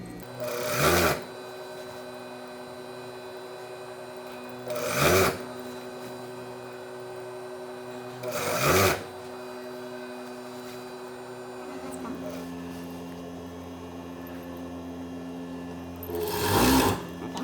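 A sewing machine hums continuously while stitching seam binding along a skirt hem, sewing on top of the serger edge, with a few louder periodic thumps recurring every few seconds over the steady motor drone.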